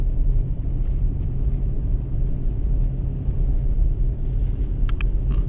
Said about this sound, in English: This is just driving on the streets in the middle of a blizzard